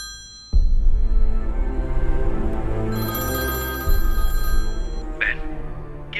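Telephone bell ringing loud and close after a call is placed in a dramatic film scene, a sustained metallic ring starting abruptly and continuing alone with no one speaking.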